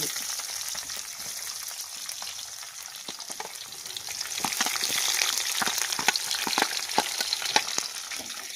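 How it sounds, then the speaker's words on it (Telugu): Onions frying in a pan for semiya upma give a steady, close hiss of sizzling oil, with sharp crackles and pops growing more frequent toward the end and no voices. "ఉల్లిపాయలు కూడా ఫ్రై చేసుకున్నాము"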